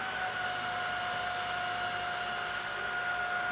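A Eureka ReactiSense 440 cordless stick vacuum runs close by with a steady, even airy whir and a constant high tone that holds unchanged throughout, heard alone without speech.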